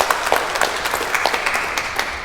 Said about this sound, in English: Good applause for that.